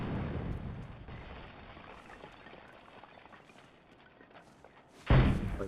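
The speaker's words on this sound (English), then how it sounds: "Got an RPG." RPG explosion sound effect, a fading low roar followed by a sudden loud booming blast near the end.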